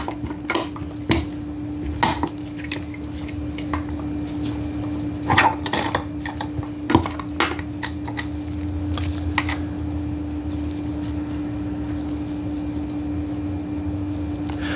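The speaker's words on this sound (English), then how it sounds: "let's go ahead and we'll stick this in the vise and see what we got" A US General padlock clamped into a vise, heard as a string of close metallic clicks, clanks and rattles as the lock is handled and tightened, trailing off into quiet.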